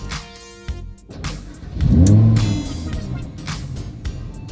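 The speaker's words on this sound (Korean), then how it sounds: "시동을 한번 걸어보겠습니다." A 2016 Lamborghini Huracan LP580-2 starts up: a whirring crank, then the engine catches with a loud, close roar and rev flare before settling into a lower, rumbling idle.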